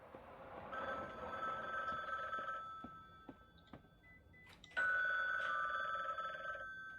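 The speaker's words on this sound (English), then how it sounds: "Fine, I'll pick up the fucking phone." A telephone rings in the video game The Bookwalker: two long bursts of bright, trilling bell separated by a short gap, loud and close, with no talking.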